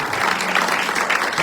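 A church congregation applauds together, steady dense clapping filling the room for the whole moment without a break.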